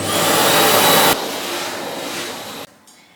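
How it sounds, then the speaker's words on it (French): Vacuum cleaner sucking up pet hair indoors, a loud steady whine that drops in pitch partway through, then cuts off near the end. "je vais passer un coup d'aspirateur encore, parce qu'il y a des poils partout"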